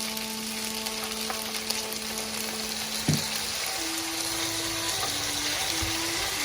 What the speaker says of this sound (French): pour les faire revenir avec les légumes dans le wok